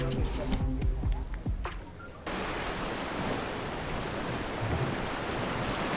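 Ocean waves break against a harbour shore, a dense, continuous roar of surf and wind noise that swells after a brief stretch of mixed clatter and background sound at the start.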